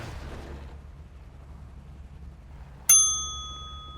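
A single bright electronic ding from GTA Online rings out suddenly after a quiet stretch of low rumble, then lingers and fades.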